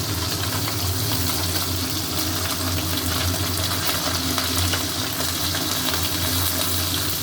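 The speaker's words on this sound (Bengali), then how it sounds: "পাঁচ দিয়ে দিচ্ছি কালো জিরে আর কাঁচা লঙ্কা" Nigella seeds and green chillies frying in hot oil with fried fish, a dense, loud, continuous sizzle held steadily close to the pan without any talking.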